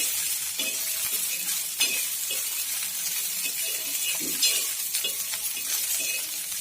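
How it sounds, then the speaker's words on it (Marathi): Chickpeas roasting in a little oil in a pan, a steady close sizzle broken by repeated scraping stirs and a few light clinks, with no voices. "हे हरभऱ्याचे दाणे आपल्याला भाजून घ्यायचे, छान भाजून घ्यायचेत आपल्याला हे चणे"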